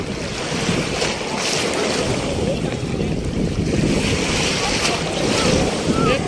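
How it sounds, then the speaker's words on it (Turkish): Sea waves wash and surge continuously close to the microphone, with strong wind buffeting over them and faint voices now and then. "Ay dalga geliyor zaten."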